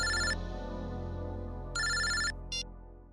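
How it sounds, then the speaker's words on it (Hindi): An electronic telephone rings in two bursts with a short chirp after, bright trilling tones over a low sustained musical hum, with no talk. "एयरपोर्ट से फोन था"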